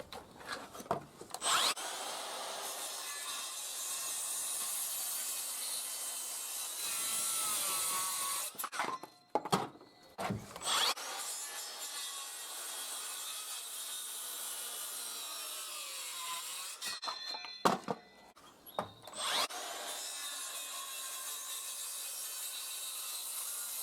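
Makita DHS660 18V cordless circular saw cutting through wood in loud sustained passes, briefly stopping and restarting twice between cuts, close and without talk.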